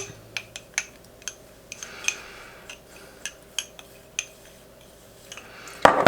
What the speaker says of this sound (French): On vient tasser avec une petite cuillère dans le fond.